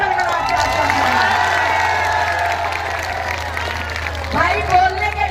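Crowd at a Lodhi Rajput community gathering bursts into sustained applause and cheering, a dense wash of clapping and shouts that holds steady close around, with a low hum underneath.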